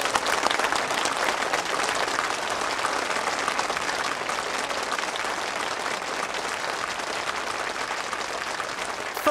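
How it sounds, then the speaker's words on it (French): A church congregation in a village applauds a woman who has agreed to repent, with dense, steady clapping that fills the whole stretch at an even, fairly loud level. "Applaudissons-la."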